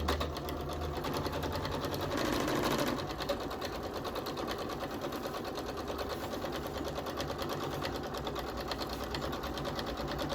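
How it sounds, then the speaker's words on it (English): A domestic sewing machine stitches quilt binding down a quarter inch from the quilt's edge in a steady, continuous run, close and evenly loud, with a brief louder swell early on and no talking. "I'm going to sew that down from the edge of the quilt at 1/4 of an inch again, all the way down this side"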